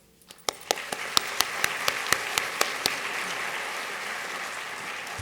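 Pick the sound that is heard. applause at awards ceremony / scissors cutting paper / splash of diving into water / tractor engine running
applause at awards ceremony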